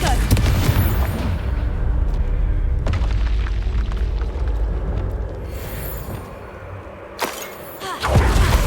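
Confringo explosive spell blasts in the Hogwarts Legacy video game: deep booming bursts, one at the start and more near the end, with rumbling decay and quieter game sounds between.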